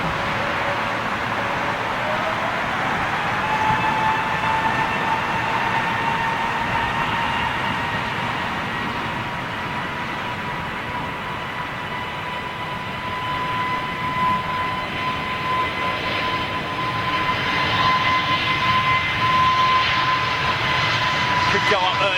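Airliner jet engines at Heathrow Airport make a steady, loud roar that builds slightly toward the end over about 22 seconds, with people talking nearby.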